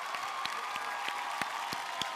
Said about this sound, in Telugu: ఖచ్చితంగా చప్పట్లు కొట్టాలి